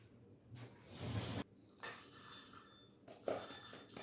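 Fresh black pepper cracked coarsely for Texas brisket, heard as a few short, gritty crunching bursts with brief gaps of quiet between them, close and fairly faint.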